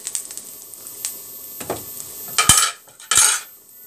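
Chili paste made from ground dried chili pods, two large spoonfuls, stirred into an oily pan with onion. Close metal scrapes and clinks of a spoon sound over a soft sizzle, with no talking.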